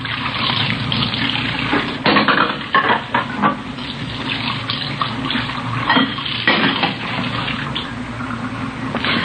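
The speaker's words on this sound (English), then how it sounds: "We found her in the kitchen washing dishes." Dishes being washed in a kitchen sink with running water, steady splashing and scattered clinks of dishes and cutlery, close and continuous without pause.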